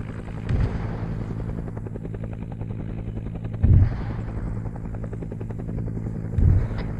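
Helicopter in the military video game Arma 3, a steady rotor drone with rhythmic blade chop running throughout, punctuated by three heavier low thumps like distant impacts.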